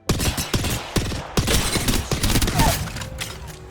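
Rapid gunfire bursts from the video game Apex Legends, dense crackling volleys with short gaps and loud sharp onsets, steady and close throughout.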